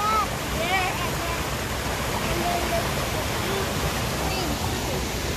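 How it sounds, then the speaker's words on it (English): A small waterfall on a resort property in Ubud's jungle sends up a steady, close rush of falling water that fills the whole clip, with faint voices and birdlike chirps over the flow. "the property has like its own little waterfall."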